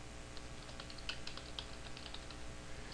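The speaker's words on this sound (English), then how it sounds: "as long as you keep on hitting the enter key and typing something," Quiet, irregular keystrokes clatter on a computer keyboard for a few seconds over a low steady background hum.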